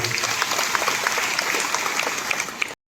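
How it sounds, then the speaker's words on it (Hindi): Enthusiastic applause from a church congregation welcoming guests at a Catholic men's annual gathering, dense and steady throughout before cutting off abruptly. "उनके लिए हम लोग स्वागत स्वरूप जोरदार तालियां बजाएंगे"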